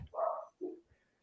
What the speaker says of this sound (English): can y'all hear that? Yeah. The dogs?